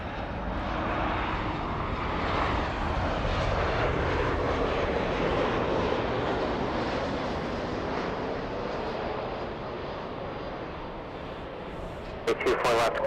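A jet airliner taking off from runway 24 left at LAX airport in Los Angeles, a loud sustained engine roar that holds steady for the whole span, with a voice talking over it and a few sharp clicks near the end.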